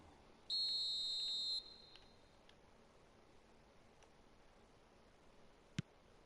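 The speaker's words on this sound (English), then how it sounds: "There's the whistle." In the eFootball video game, a single shrill referee whistle blast lasts about a second over faint background ambience, followed later by a brief sharp click.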